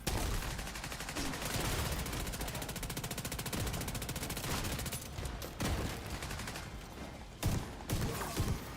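Dense automatic gunfire in The Division 2, a PVE combat game, as an SMG rattles in long rapid bursts, loud and near, with short pauses and a few heavier single blasts toward the end.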